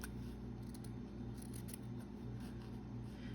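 Scissors snipping through bias tape while trimming it narrower, a steady run of close, fairly quiet cutting strokes over a constant low hum, no voices.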